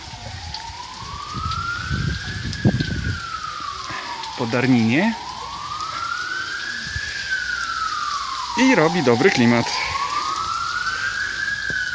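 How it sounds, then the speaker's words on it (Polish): An ambulance siren wails in slow rising and falling sweeps, moderately distant, while someone talks briefly and rain patters in the background. "Słychać jakaś karetka wiezie pewnie kogoś znowu do szpitala."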